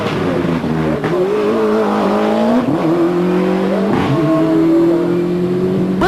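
A Group-A Ford Escort RS Cosworth rally car charges through a stage at Lurgan Park, its engine loud and close, revving hard through repeated gear changes and surges in pitch.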